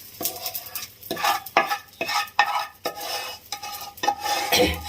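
A spoon repeatedly scrapes roasted urad flour for sugar-free adadiya pak out of a hot kadai into another vessel, a close, rhythmic series of gritty metal scrapes with faint sizzling underneath and no speech.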